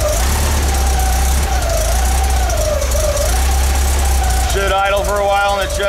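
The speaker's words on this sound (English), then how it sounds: "Should idle for a while in the choke and" An air-cooled Volkswagen engine with carburetors, as fitted to a VW Bus, idles on choke close by, giving a steady loud rumble with a wavering whine that turns choppier in the last second.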